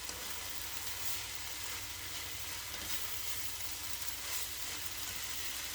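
White beans and greens simmer in a pot while being stirred, giving a steady close sizzling hiss with soft scraping that stays even throughout.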